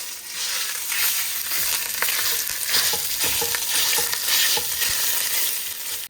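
Italian sausage sizzles and fries steadily in olive oil in a pan while a utensil stirs and breaks it apart, with scraping taps over the close, continuous crackle.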